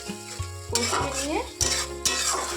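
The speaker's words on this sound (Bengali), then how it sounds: "এবার এটাকে আমি কষিয়ে নিয়ে" Fish curry with potatoes sautéing in a pan, steady sizzling broken by repeated scraping and clanking of a spatula stirring against the metal.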